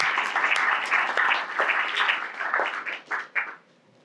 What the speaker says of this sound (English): That clapping was for what he said